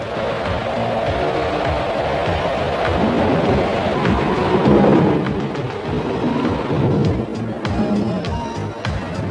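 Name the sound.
thunderstorm at sea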